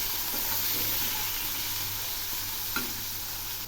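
Onions and tomatoes sizzling in a pan with salt and turmeric, a steady close frying hiss with a few soft stirring scrapes and no voices.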